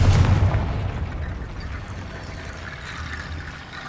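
A Confringo blasting spell in Hogwarts Legacy explodes as one loud burst at the start, then a rumbling tail fades out gradually over a few seconds.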